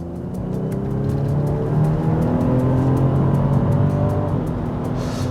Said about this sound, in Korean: 이제 스포츠 모드에서는 전기 모터와 엔진이 모두 힘을 쏟게 됩니다.